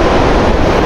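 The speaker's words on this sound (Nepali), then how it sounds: "दामी चिसो हावा चलिरहेको छ" Cold wind blowing outdoors, a loud, steady broadband roar buffeting the microphone without a break, surf-like in texture and close, with no voices.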